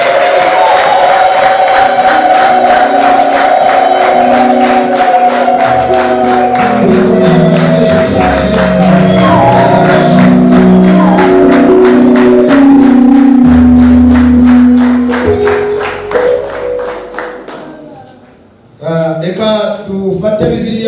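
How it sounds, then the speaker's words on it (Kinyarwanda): A church congregation claps hard and steadily for a long stretch, the rhythmic applause mixed with voices and music before it fades out and a speaker's voice returns. "Reka abantu babonye Imana tuyikomere amashyi menshi cyane."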